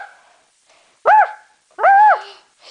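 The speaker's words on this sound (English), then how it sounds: "it's a feral dog." A feral dog gives two loud, close barks with a tonal, yelping quality, separated by a short pause, with faint background sound between them.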